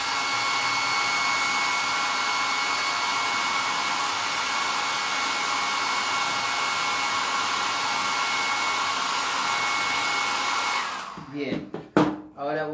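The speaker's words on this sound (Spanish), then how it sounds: "ahora sí necesito secar con el secador de pelo" A hair dryer blows steadily at close range to dry paint during an art class, a constant loud whir with a thin whine, cutting off near the end into a few handling knocks.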